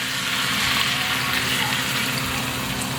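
Soy sauce pours into a pan of adobo with a bay leaf as a steady close gush of liquid, with no break for its whole length.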